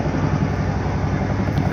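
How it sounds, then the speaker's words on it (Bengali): Helicopter near a helipad in Anini, Arunachal Pradesh, producing a steady, loud low rotor and engine drone that holds without a break and with no talk over it. "আওয়াজ শোনা যাচ্ছে হেলিকপ্টার।"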